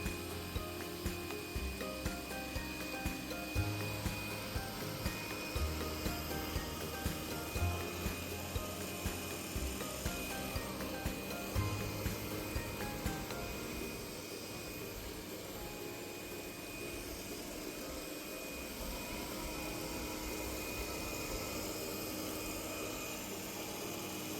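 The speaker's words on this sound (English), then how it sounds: "The pads were lifted and the vacuum increased suction when it sensed the carpet." A Roborock QV35A robotic vacuum cleaner crosses onto carpet and raises its suction. It gives a steady, loud whirring drone whose tone shifts and smooths midway, with no voices.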